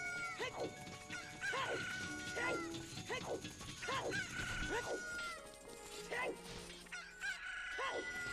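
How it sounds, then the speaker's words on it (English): Game sound effects from an Ocarina of Time randomizer, with rooster crowing and dog barks repeating in quick bursts as the hover boots sound, over a busy layer of game music and effects. "I think the dog barking is the best hover boot sound."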